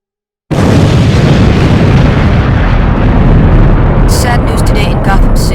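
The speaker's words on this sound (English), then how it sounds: "Dick Grayson, adopted son of Bruce Wayne, dead today in a Wayne Manor explosion." A loud explosion rips through Wayne Manor in an animated superhero movie: a sudden heavy blast followed by a sustained rumbling roar, with a few sharp bursts near the end.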